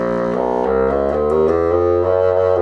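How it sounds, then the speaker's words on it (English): A bassoon plays a sequence of low, sustained notes in a slow, connected line, reedy, close and fairly loud. "So if I put it on the bassoon, I can play some really low notes."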